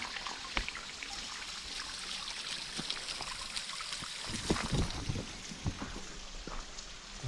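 Mountain water trickles and flows through dense jungle forest high in the Nepal Himalayas, a steady close babble with scattered splashy drips, heard alone with no talking.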